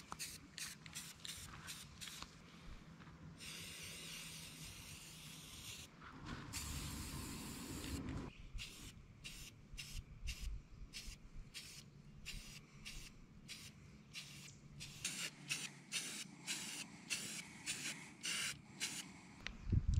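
Short rapid bursts of an airbrush or spray can hiss close by as coats of paint go onto a bass fishing lure, with two longer sprays in the middle and quiet handling between, faint overall.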